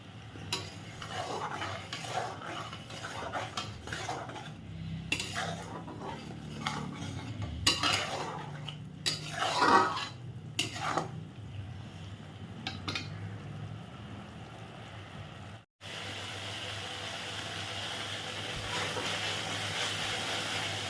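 A spice paste with yogurt is stirred and cooked over low heat in a pan for a Bengali oil koi fish dish, with a utensil scraping and clinking against the pan over a soft sizzle, steady and close with no talk.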